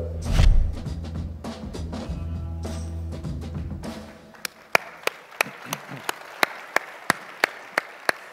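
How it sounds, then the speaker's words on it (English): Audience applause at the Detroit Policy Conference, a loud mixed wash of clapping at first that thins out and ends in a run of single, evenly spaced claps as it dies down. "People always clap for the videos"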